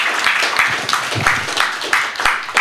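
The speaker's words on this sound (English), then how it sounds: "So just a big round of applause for everybody who's turned out tonight." Scattered audience applause at a boxing press conference, with bursts of clapping rising and falling in uneven waves and fairly loud in the room.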